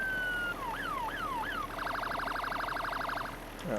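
Police car siren from the Highway Police Simulator game, loud and close: a few rising-falling wails give way to a rapid yelp that warbles steadily for a couple of seconds, then cuts off abruptly.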